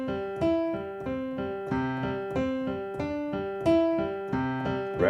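Piano notes play short repeating color-block improvisation patterns, a steady rhythm of chords and single tones moving between a few pitches, clear and close with no talking.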